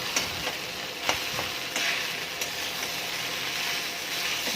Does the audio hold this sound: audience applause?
no